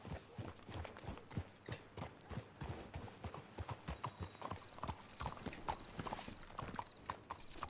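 Horse hooves clip-clop in a steady walking rhythm throughout in Red Dead Redemption 2, fairly close, with faint background ambience and no talking.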